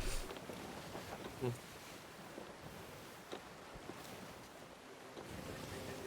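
A sailing ship moves across open ocean in Sea of Thieves, with steady wash of waves and wind noise, a soft thump early on, and no talking.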